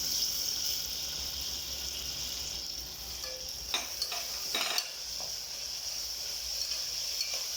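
Coriander and mint are stirred into sautéed onion and tomato in a sizzling pan, with a few soft scraping strokes midway over a steady frying hiss and no voices.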